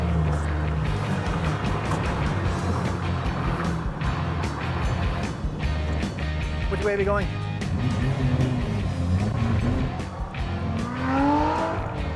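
Lotus Elise sports car engine running loud and steady throughout, with rising and falling tones of acceleration, heard from inside the right-hand-drive car while people talk over it.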